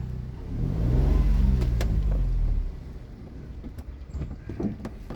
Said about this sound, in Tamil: இப்போ அங்கே ஆப்போசிட்டில் வண்டி வருது.